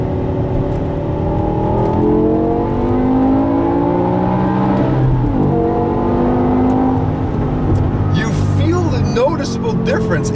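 A 2008 BMW M5 E60 with a V10 pulling hard at full throttle, its engine note climbing steadily through the revs from inside the cabin, loud and continuous, with a voice talking over it.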